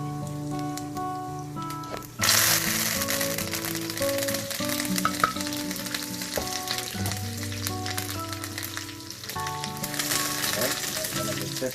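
Spices dropped into hot oil for boondi kadhi, bursting into a sudden loud sizzle that continues as steady crackling frying, close up, with occasional faint background tones.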